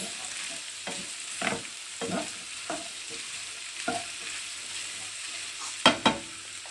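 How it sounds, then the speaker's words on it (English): Peas, carrots, green pepper and gizzard frying with a little salt for Nigerian fried rice: a continuous low sizzle broken by repeated spoon scrapes and taps against the pan, two sharper knocks near the end, close with no voices. "I have to fry them together with a little salt"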